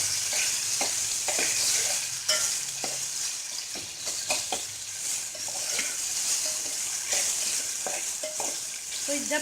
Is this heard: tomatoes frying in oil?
yes